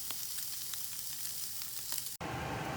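Wagyu hamburger patties sear in a hot pan with a steady, close, dense sizzle, crackling throughout before breaking off abruptly near the end into a brief, shifted frying hiss.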